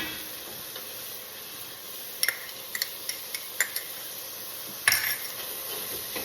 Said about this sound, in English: we're going to add in 4 cloves of chopped garlic